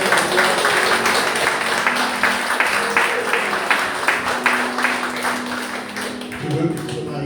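A church congregation applauds and cheers the Lord, a steady wash of clapping and crowd noise filling the room, with a voice speaking over it near the end.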